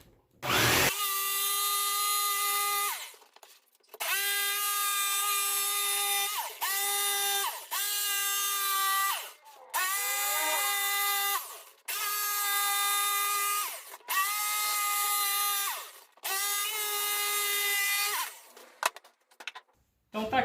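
A wood router cutting a round MDF tabletop whines steadily and loudly, running in repeated bursts of several seconds separated by brief pauses, with no voices over it.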